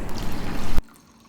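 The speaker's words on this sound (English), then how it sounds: "So now I'm going to pour in some more water so that it reaches at least an inch above my rice." Water pours steadily into a pot of soaked rice in a home kitchen, a close, even splashing stream that stops abruptly and leaves a faint room hush.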